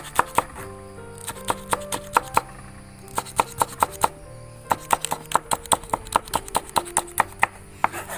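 A knife chops vegetables for thoran on a cutting board in a home kitchen, a fast run of sharp, close taps in uneven bursts with short pauses between them. No one talks.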